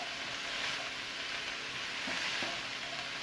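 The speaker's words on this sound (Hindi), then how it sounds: "इसको हमने हाई फ्लेम पे ही जो है फ्राई करना है।" Chicken, vegetables and rice fry on a high flame, a continuous dense sizzling hiss at a moderate, even level with no talking.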